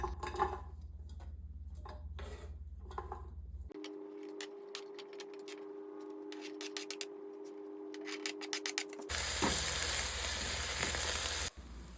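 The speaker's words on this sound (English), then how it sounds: "putting a little bit of extra virgin olive oil in the bottom of the pot, and then we're going to add our vegetables in" Vegetables sautéing in extra virgin olive oil in a pot, a quiet crackling sizzle with scraping stirs, then a brighter, louder hiss of frying near the end.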